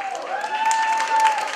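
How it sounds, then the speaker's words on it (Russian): Brief audience applause and light cheering at a wedding show, a short burst of crowd clapping with a sustained tone and voices mixed in, moderately loud. "поаплодируйте, пожалуйста."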